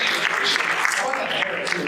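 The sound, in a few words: audience applause for Kirk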